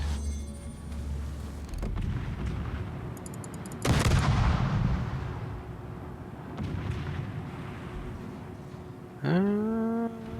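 Heavy naval guns of the cruiser USS Charleston fire in World of Warships, booming in a few spaced blasts with rumbling tails, one louder salvo near the middle and a sharp rising whine near the end.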